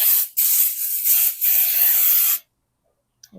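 Several close, hissing bursts of cooking spray into a baking pan, a short one then longer sustained sprays, followed by silence and a faint clink.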